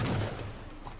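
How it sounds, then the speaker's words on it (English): Gunfire in the video game Halo 4: a brief, dense spray of distant shots blurs into a continuous crackling rumble during a firefight, with no voices. "Where are they shooting from?"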